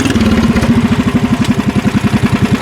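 A kart cross engine revs hard, giving a loud, close, rapid pulsing chug with a throbbing beat that stays strong from start to finish.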